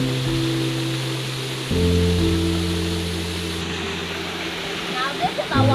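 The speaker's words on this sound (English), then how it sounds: "this is the Orchid Falls" Orchid Falls pours in a steady broad rush of falling water, with strong tonal hum and bird-like chirps near the end layered over the constant roar.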